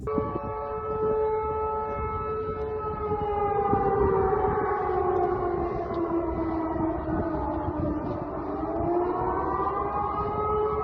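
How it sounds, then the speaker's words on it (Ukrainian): An air-raid siren in Russia's Voronezh region, sounding during a drone attack, wails and drones steadily throughout, its pitch slowly sliding down and rising again, loud and sustained with a faint distant echo. "Спочатку в регіоні лунала сирена."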